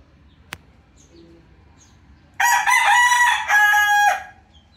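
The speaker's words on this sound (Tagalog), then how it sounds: "Ang ating mga manok." A young rooster of a McLean x Miner cross, about four months old, crows loudly and close after a brief quiet moment with a single tap, the crow coming in two strong bursts before fading.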